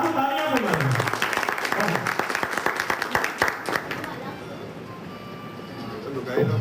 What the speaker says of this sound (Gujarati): આપણે તાળીઓ બજાવો